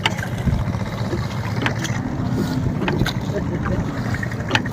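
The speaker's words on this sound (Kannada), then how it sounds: "ನನ್ನೊಂದಿಗೆ ಈಗ ದೋಣಿಯಲ್ಲಿ ಸಂಗಮಕ್ಕೆ ಹೋಗ್ತಾ ಇದ್ದೇವೆ ತ್ರಿವೇಣಿ ಸಂಗಮಕ್ಕೆ" A boat carries passengers across the water toward Triveni Sangam, its steady engine drone and churning water running throughout, with occasional clatters and sharper knocks.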